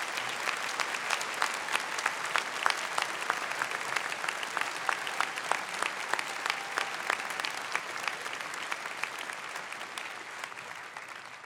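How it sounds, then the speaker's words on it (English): A large audience claps steadily and loudly for several seconds at a University of Brighton winter graduation ceremony, a dense, even wash of applause that stays strong throughout. "can we just have a round of applause for all those who've made this great?"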